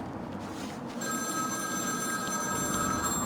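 A telephone rings steadily in Batman: Arkham City, its high electronic tone sitting under a constant low ambient rumble with no one speaking.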